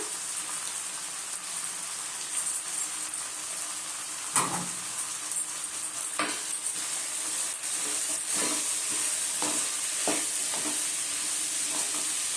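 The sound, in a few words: coriander added and stirred in frying pan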